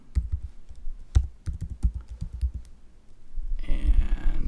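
Keys clatter on a computer keyboard while a VLOOKUP function is entered in an Excel spreadsheet: scattered close clicks and taps, then a denser, louder burst of typing near the end.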